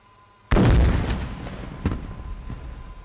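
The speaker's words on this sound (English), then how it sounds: "Please take your attention to the terror hideout Tango 11 on your right to witness the kamikaze kinetic strike." A kamikaze drone strike on a terror hideout at a military demonstration: one sudden loud blast after brief quiet, followed by a rolling, decaying rumble and a second smaller bang.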